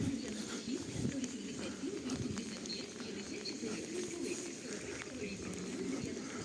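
Pigeons coo softly over steady rain and street ambience in the resort town of Truskavets, Ukraine, with faint patter throughout.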